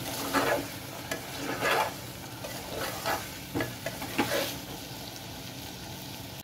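Mango mutton curry is stirred and tossed in a frying pan, a soft sizzle running underneath several scraping strokes spaced irregularly, close and fairly quiet with no voices.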